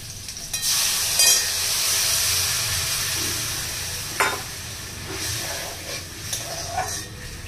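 Poppy seed and white sesame paste loosened with a little water goes into a hot pan, giving a steady sizzle with a few sharp stirring scrapes and clinks of a spoon against the pan.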